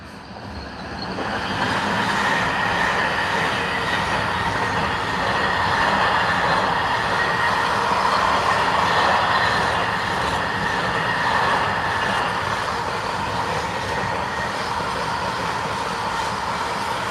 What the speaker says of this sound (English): Oh, here comes the freight train.